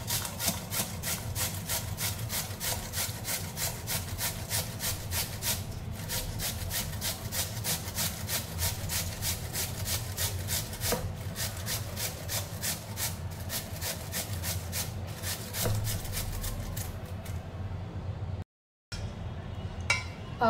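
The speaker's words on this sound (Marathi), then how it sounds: "आपली काकडी किसून झालेली आहे।" Cucumber rubbed fast against a grater, a continuous close rhythmic rasping with even strokes for about eighteen seconds, a brief pause, then a final scrape; no talking.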